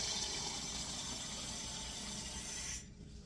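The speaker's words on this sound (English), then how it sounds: "So we're gonna add cold water to this." Cold water pours steadily into a pot holding pieces of veal for a quince stew, a continuous rushing gush that cuts off abruptly near the end, leaving a quiet kitchen.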